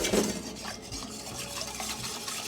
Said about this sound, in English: Give it a really good whisk.